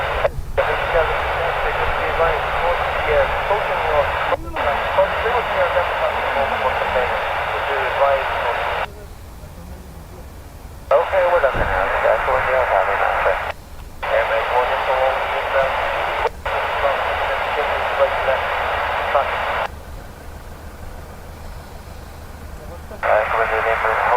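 An airband radio scanner beside a planespotter at Dublin Airport plays clipped bursts of pilot and controller voice traffic, loud and close, with short silent gaps and quieter pauses between transmissions.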